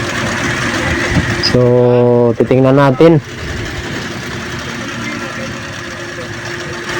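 A multi-cab engine idles roughly with a steady low rumble and shaking, heard throughout beneath a brief spoken line.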